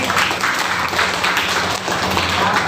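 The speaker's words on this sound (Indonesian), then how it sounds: "tepuk tangan dulu untuk Sini" A classroom audience at Universitas Sriwijaya gives continuous, dense applause, many hands clapping steadily and close for the whole stretch.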